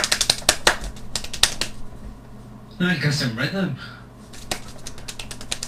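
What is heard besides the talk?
fast hand clapping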